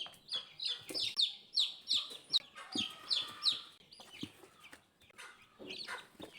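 Young chicks of a Lemon 84 hen peep in rapid, high repeated chirps from close by, with softer clucking and rustling from a battery cage in the background.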